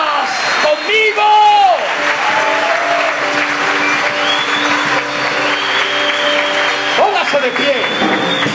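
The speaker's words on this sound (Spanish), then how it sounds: "Regálale ese aplauso al Señor en este momento." A church congregation claps and cheers together in a large room, a loud, continuous wash of applause with shouted whoops and a voice calling out over it, sustained throughout.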